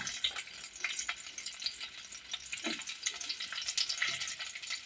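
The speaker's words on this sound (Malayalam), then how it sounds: "ചട്ടി ചൂടായിരിക്കുകയാണ് കുറച്ച് വെളിച്ചെണ്ണ ഒഴിക്കുകയാണ് ചുമന്നുള്ളി ഇങ്ങോട്ട് ഇടുകയാണ്" Shallots frying in hot coconut oil in a heated pan, a dense crackling sizzle with scattered spits and pops, close and steady throughout, with a few light stirring scrapes.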